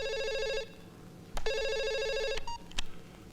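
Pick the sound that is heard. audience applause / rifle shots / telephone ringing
telephone ringing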